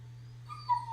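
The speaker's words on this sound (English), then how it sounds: "It's a dog made out of scrap metal." A robot dog made of scrap metal in Fallout 76 gives a faint, whimpering bark-like call over a steady electronic hum, a short rising yelp near the end.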